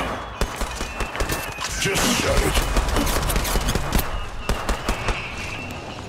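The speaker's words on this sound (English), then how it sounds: "They spotted me. I'm taking shots." Rapid bursts of gunfire in the video game Apex Legends, sharp repeated shots over continuous battle noise, with a player speaking briefly over the shooting.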